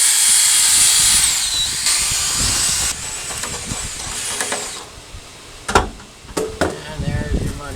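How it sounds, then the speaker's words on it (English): A power drill spins a Linteater rotary brush through a dryer vent, with a loud steady whir and hiss for about five seconds before it cuts off, followed by scraping clatter and bursts of knocking. "I just want to run the drill kind of a little bit higher speed here"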